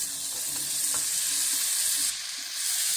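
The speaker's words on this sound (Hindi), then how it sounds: "ये तेल गर्म है इसलिए, और तुरंत ही हम डाल देते हैं इसमें कद्दू" Pumpkin pieces tumble into hot oil with red chilli powder and spices for a pumpkin sabzi, giving a steady loud sizzle with a few soft stirring scrapes, no talk.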